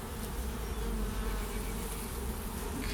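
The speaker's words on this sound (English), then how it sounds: "See all the bees down in there." A dense, steady drone of many honeybees buzzing close up inside a hive, continuous and even with no voices.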